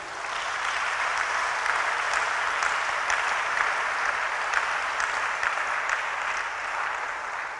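A church congregation at a seminar vigil applauds in a sustained, even wash of clapping, many hands together at moderate loudness without pause for several seconds.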